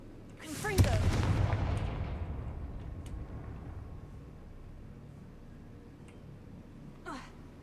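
A Confringo blasting spell cast in the Hogwarts Legacy video game bursts out as one loud, booming impact with a long rumbling tail that slowly fades. A fainter whooshing effect follows near the end.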